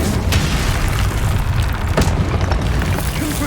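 A Confringo blasting spell explodes in Hogwarts Legacy, a loud, heavy boom with a rumbling low roar that fills the scene continuously, with a couple of sharper bursts on top.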